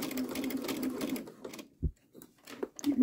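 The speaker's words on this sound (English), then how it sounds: "And I'm going to back stitch here where it's really thick." A sewing machine back stitches through a thick quilted potholder with short whirring bursts and a few stops, close and moderately quiet, with brief mechanical thumps between runs.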